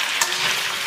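Pork ribs and bitter melon stir-fried in a wok for a Cantonese tea-scented rib dish, with a steady, loud hiss of frying and a brief spatula scrape near the start.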